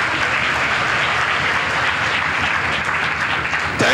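A church congregation at a healing service claps loudly and continuously, a thick unbroken roar of hand claps that stays level throughout with a sharp sound near the end.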